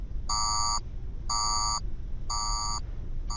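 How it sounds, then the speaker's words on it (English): Three identical electronic beeping bursts of a cartoon spaceship alarm, evenly spaced and about half a second each, over a steady low rumble. "suddenly he hears an alarm"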